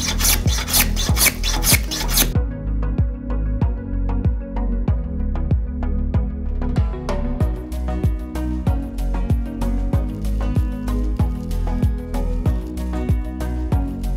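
A hand plane takes steady rhythmic strokes along the taper of a wooden Shaker table leg with awkward grain: a dense burst of quick passes, a short pause, then evenly spaced shaving strokes, close and clear.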